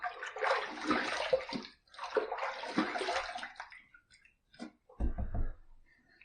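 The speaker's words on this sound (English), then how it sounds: "First pass done, let's rinse." A razor is rinsed under running water between passes of a shave with a PAA Alpha Ecliptic slant razor: two long bursts of splashing tap flow, a short pause with small drips, then a brief lower gush near the end.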